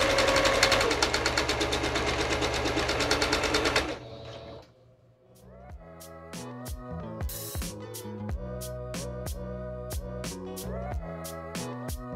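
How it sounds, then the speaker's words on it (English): A sewing machine stitches strips of quilt fabric for four-patch blocks, a fast, close, steady mechanical whirr for about four seconds, then stops and leaves light clicks and handling of the fabric. "I'll hold it and sew until I get to where I need to readjust"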